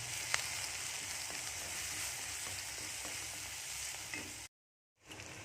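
Ginger and garlic sizzle with onions in a hot pan, a steady close frying hiss with occasional stirring scrapes, then a brief drop to silence near the end.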